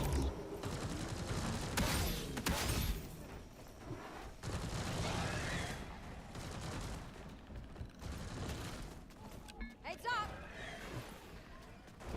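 Turrets blasting rapidly in a video game, bursts of gunfire and explosive booms tumbling over one another in dense, uneven clusters, with a voice talking over the steady barrage.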